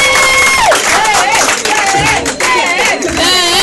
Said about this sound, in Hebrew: כפיים לבן!